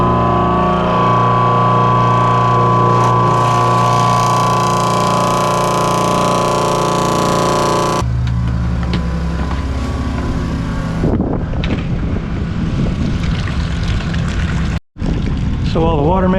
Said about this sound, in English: flip on the high pressure pump